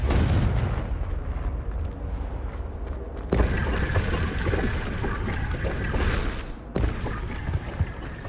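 Confringo fire spell explosions in the Hogwarts Legacy video game, loud, roaring blasts with heavy rumble and crackle, breaking into distinct bursts at a few points amid continuous game noise.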